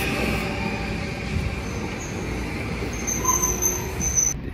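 Rumbling rail noise of a train at a station, with a steady low roar and faint high-pitched squeals and hisses over it.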